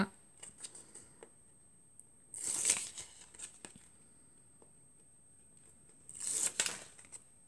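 Card stuck with double-sided tape onto a brown card base in stamped card-making, giving two short sharp peeling and pressing rasps between quiet taps and handling noises, close up.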